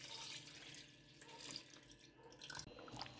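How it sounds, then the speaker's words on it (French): Palm juice poured from a container into a cooking pot of cooked meat, a steady splashing liquid stream running throughout, close and moderately loud with no talking. "Je viens donc verser mon jus de palme dans ma marmite."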